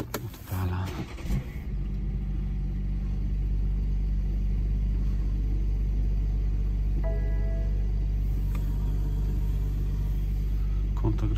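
A car engine catches after a brief crank at the start and then idles in a steady, loud, close rumble, set outdoors on a windy day during a tyre puncture repair, with no talking.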